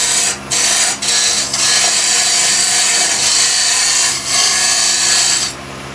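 A wood lathe roughs down a raised bowl blank with a roughing gouge, a steady, loud scraping hiss of tool on spinning wood that runs almost continuously, broken by a few brief dips where the cut eases.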